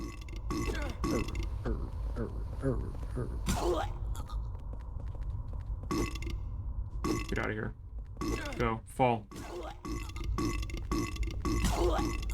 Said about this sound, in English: We get to hear them burp more.